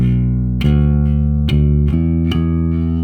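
An electric bass plays a riff in E natural minor, sounding a handful of sustained, heavy notes in a slow sequence, each change clearly plucked and ringing alone.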